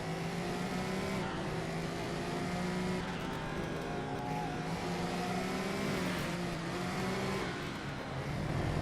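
Race car engine in the driving game GRID, a sustained whining drone that climbs and shifts with gear changes and occasional dips, steady and fairly loud with no talk.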